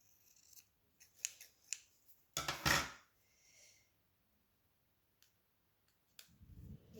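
Scissors snip through diamond painting canvas in a few separate, crisp cuts, then give one longer, louder crunching cut. Quiet gaps fall between the cuts in an otherwise still room.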